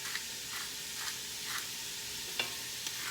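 Onions softening in a pan with a little salt give a quiet, steady sizzle, broken by a few soft stirring scrapes and a brief clink, close and without talk.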